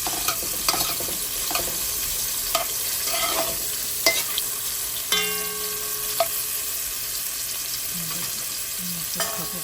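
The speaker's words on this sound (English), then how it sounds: "if it's ham, real ham, then you start saute the ham" Ham sautéing in a pan for arroz con gandules, with a steady close sizzle broken by repeated scraping and tapping of a utensil stirring the meat, no voices.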